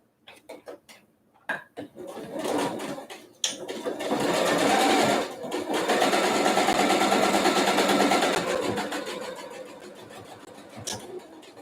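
Sewing machine stitching back over the elastic on a homemade surgical mask, a steady close whirring run of several seconds after a few short clicks and taps, then stopping with a final brief burst.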